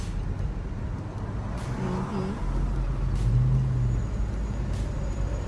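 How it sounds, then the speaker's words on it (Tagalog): Road traffic with cars and trucks idling and creeping along in a jam, a steady low engine rumble with a brief air-brake hiss, heard close and continuous with a faint voice in the background. "Traffic na kami ngayon guys."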